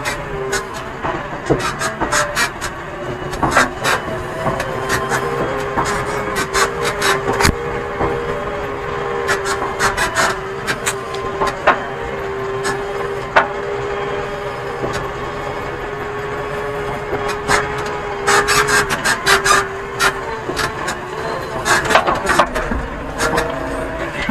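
JCB 3DX Eco Xpert backhoe loader driving in second gear across a site-cleaning job, a steady diesel engine drone with a constant tone, overlaid by frequent rattling clanks and knocks from the machine throughout.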